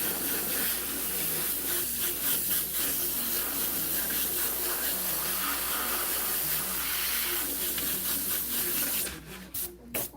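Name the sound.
air compressor spraying paint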